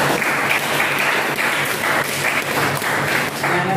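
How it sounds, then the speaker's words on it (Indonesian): A classroom group applauding together, dense steady clapping from many hands that stays loud and even for a few seconds. "Aplaus untuk kelompok"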